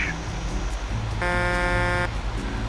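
A truck horn in the video game Euro Truck Simulator 2 blares once in a steady, loud blast lasting under a second, over a low rumbling engine hum.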